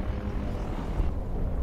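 Aircraft crashing close by in the World War I shooter Battlefield 1, heard as a dense, steady low engine roar and rumble, loud and continuous throughout.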